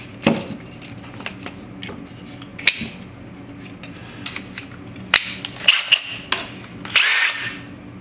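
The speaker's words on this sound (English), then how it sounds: "I'm gonna get my drill, and you can see I've got my drill bit that we secured with epoxy on the end" A power drill with a bit epoxied to a spool whirs in short bursts, mixed with metallic clinks and handling noises, close and intermittent.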